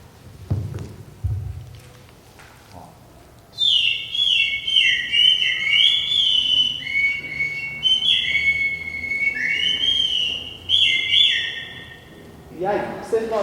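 A traditional Pataxó instrument imitates bird calls with shrill, high warbling whistles in trilling phrases over several seconds, clear and close, after a few soft knocks and rustles.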